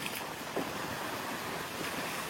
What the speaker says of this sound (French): On est à 40 km/h de vent quand même.